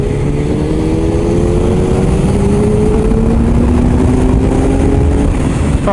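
A Suzuki Hayabusa motorcycle accelerates hard, its engine note climbing in rising steady sweeps, loud and close, with a strong rushing wind roar throughout.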